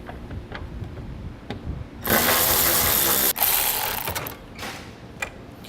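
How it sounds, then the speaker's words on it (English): A ratchet fitted with a 10mm socket backs out bolts while fitting a crossbar-style base plate kit to a 2017 Jeep Cherokee, a close, busy burst of clicking lasting about two seconds, then fading into softer scattered clicks. "Now I'm going to be using a 10mm socket to remove those bolts."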